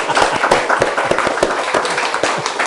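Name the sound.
audience clapping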